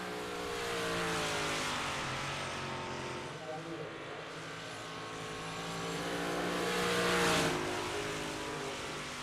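Race car lapping an oval track in the iRacing simulator during a Thunder Racing League event, engine droning steadily through the corners and swelling as it comes out of turns 3 and 4, with commentary running over it throughout.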